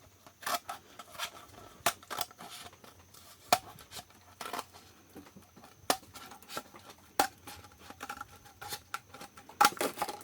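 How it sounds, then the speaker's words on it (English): Scissors snip around a crocheted piece in a series of sharp, irregular cuts, close and fairly quiet, with no talking. "Then after you do that, you kind of cut around."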